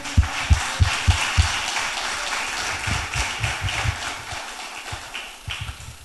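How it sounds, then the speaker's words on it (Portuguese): Applause from a church congregation, opening with loud, distinct claps that give way to a denser patter of many hands, rising again near the end. "Um aplauso ao Senhor."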